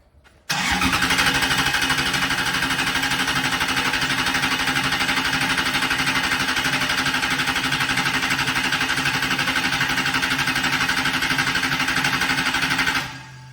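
A Mazda MX-5 with a swapped-in 1UZ V8 engine being started up close: after a brief quiet moment the engine catches abruptly and runs with a steady, loud, buzzing drone, then cuts off near the end.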